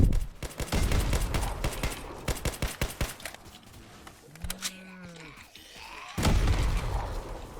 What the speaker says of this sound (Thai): ใช้ปืนยิง